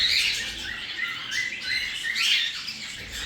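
A heavy pied mutation pet bird chirps and squawks in repeated bright, close calls, alone without talk.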